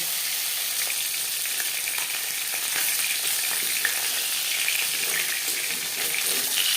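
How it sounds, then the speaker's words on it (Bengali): Rohu fish fries lightly in hot oil with a steady, continuous sizzle, close and even throughout, with no voices. "মাছ আমি হালকা করে ভেজে নেব।"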